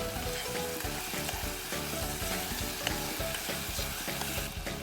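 Dried chili fries in oil in a pan, sizzling loudly and steadily up close, with a dense crackling texture and no one speaking.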